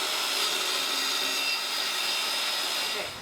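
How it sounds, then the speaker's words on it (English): A wooden shelf board is cut up close in one continuous rasping stroke of sawing that holds steady for about three seconds, then tapers off, with no talk. "I'm just cutting it off just like I did with the other piece"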